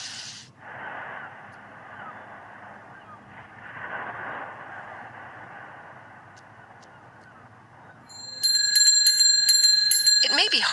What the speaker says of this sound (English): It may be hard to hear sounds of bells or chimes on Mars, but listen closely.